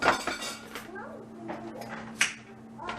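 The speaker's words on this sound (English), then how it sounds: "it's like the pressure from the tea pitcher" Tea pitcher making small noises from pressure inside, heard as faint clinks and ticks with a light rattle over a steady low hum, near and quiet, with no talk.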